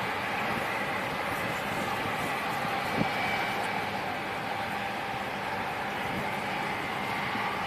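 ITA Airways jet departing London City Airport, a steady continuous engine roar heard from a distance, even in loudness throughout with no talking.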